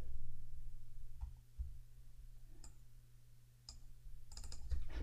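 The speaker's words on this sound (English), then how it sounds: "I'll just type in amount." Typing on a computer keyboard, a few soft, scattered key clicks, close but faint, over a low steady hum, with no voices.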